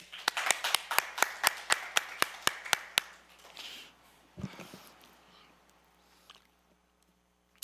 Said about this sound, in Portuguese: Uma salva de palmas para ela, gente.